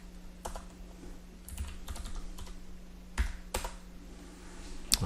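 Keys clack on a computer keyboard as a chmod command is typed, giving irregular clusters of close, crisp keystrokes over a low steady hum, with a firmer final tap.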